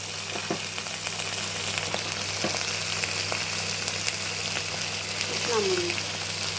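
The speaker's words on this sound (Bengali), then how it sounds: "একটু ভাজি করব" Spices sizzle in hot oil in a pan while mashed taro is being prepared, a steady crackling hiss close by with someone speaking over it.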